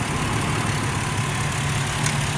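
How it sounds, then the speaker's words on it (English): A 2004 Ford Ranger Edge pickup truck engine runs steadily with a low, even rumble, close by and alone, without clear rises in pitch. "Give her a couple revs there, Ben."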